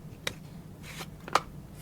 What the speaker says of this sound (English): I am going to shuffle through this.